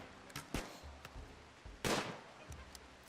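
Sharp gunshots from colonists firing in a cave fight in the video game Rimworld, a few scattered cracks of varying loudness with one stronger burst, fairly quiet overall.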